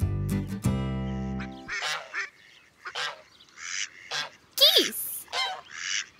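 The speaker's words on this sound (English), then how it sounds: "Geese." Geese honking on a farm in a series of loud, close, separate honks and harsh calls with short pauses between them, after a brief opening musical tone.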